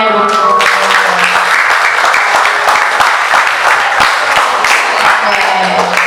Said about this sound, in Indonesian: Beri tepuk tangannya dulu.